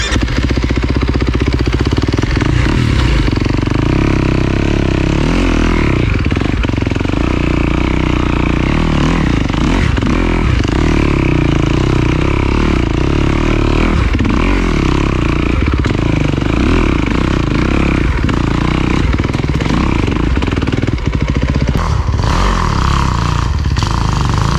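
A dirt bike rides a rough Vermont woodland trail, its engine loud and close throughout, revving and bogging continuously with clattering and scraping over uneven ground.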